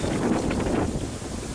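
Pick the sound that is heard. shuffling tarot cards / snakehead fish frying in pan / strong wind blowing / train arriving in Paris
strong wind blowing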